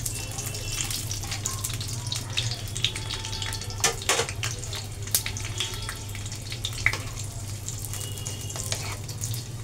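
Square-cut capsicum, onion pieces and green chilli sizzle in hot oil, a steady, fairly loud crackling fry with brief sharper spatters.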